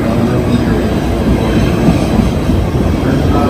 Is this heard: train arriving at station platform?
yes